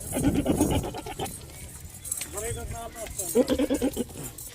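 Several white Rajanpuri goats bleat in two clear bursts of quavering calls, one at the start and another near the end, with a few softer bleats between and someone talking over them.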